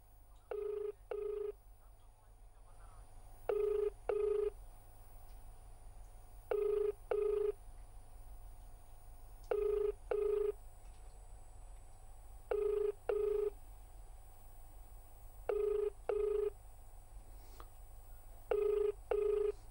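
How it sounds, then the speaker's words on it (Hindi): A telephone rings on an outgoing call, sounding as repeated paired rings, two short bursts then a pause, about every three seconds. The rings are fairly clear over a low, steady line hum and carry on for the whole stretch with no voices. "चलिए मनोज कुमार के पास बेल जारी है।"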